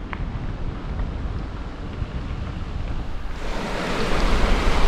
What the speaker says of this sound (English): It's also nice just to get off the bike and sit next to a river. The sound is very soothing.